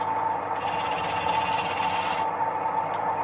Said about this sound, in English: I'm using the parting tool now to make a niche so the tip of the bowl gouge doesn't slip over the edge and snatch it.